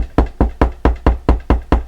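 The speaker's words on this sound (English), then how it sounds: "it's knocking. It's knocking." Knocking on a door in The Sims 4 video game, eight evenly spaced sharp knocks in quick succession, loud and clean with no talk.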